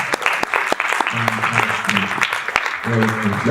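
An audience at an international engineering students conference applauds, with steady clapping that runs throughout and someone speaking over it.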